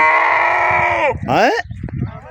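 A native desi goat bleats loudly and close, a long wavering cry followed by a shorter one, with people talking over and around it in a village setting.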